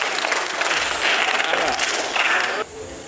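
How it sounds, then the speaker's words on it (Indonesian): A burst of clapping from a group, steady for a couple of seconds before stopping abruptly, with some crowd noise mixed in. "tepuk tangan untuk kelompok 2"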